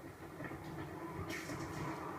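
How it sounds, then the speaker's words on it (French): A train rolls past in The Amazing Spider-Man 2 video game, a steady, continuous rumble with a faint rising hiss partway through, heard alone without talk. "c'est là où il y a le train"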